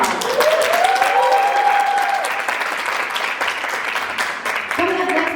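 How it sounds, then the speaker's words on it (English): A theatre audience applauds loudly and continuously after a play, with cheers and whoops rising over the steady clapping. "Give it a round of applause."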